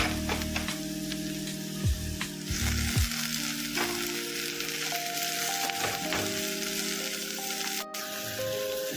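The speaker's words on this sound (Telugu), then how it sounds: "ఇప్పుడు గోంగూర వేసుకుందామండి" Gongura (sorrel) leaves fry in a pan with onions and ginger-shallot paste, producing a continuous close sizzle with a few stirring knocks and a brief sharp clack near the end.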